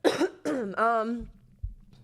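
A few close coughs, harsh and voiced, come in quick succession, followed by a couple of soft low thumps.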